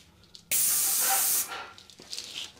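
A Graco Cleanshot paint spray gun fires one loud, steady hissing burst for about a second, then it tapers into softer hiss and faint handling noise.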